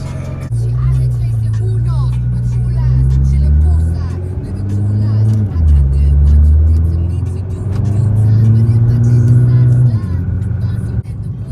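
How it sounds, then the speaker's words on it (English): A wide-body Nissan GT-R on air suspension drones steadily from inside the cabin, its engine note rising and falling through gear changes, with voices talking over it. "riding in a GTR"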